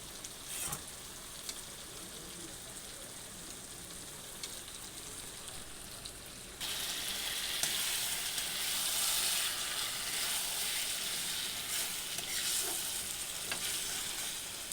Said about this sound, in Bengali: এখন এর মধ্যে দেখো আলুগুলো দিয়ে দিচ্ছি